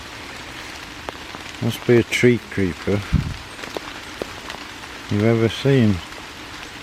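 Heavy rain pours down in Queens Park in Crewe, a steady close hiss that runs beneath someone talking throughout.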